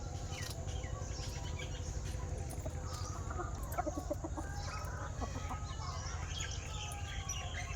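Hens in a rural home yard cluck now and then over a constant low hum and outdoor background noise, faint and somewhat distant, with no talking.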